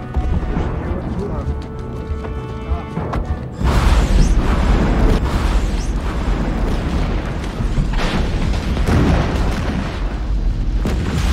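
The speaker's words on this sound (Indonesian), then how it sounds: "Ledakan yang mengagetkan sekaligus menghancurkan tank musuh ini" An explosion destroys an enemy tank in a battle: a sudden loud boom a few seconds in, followed by a sustained rumbling roar with further bursts, heard close over earlier quieter sounds and with voices present.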